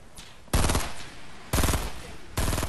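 Semi-automatic gunfire in the video game Fortnite: three loud, sharp bursts of rapid shots, each ringing briefly before fading, with quiet gaps between.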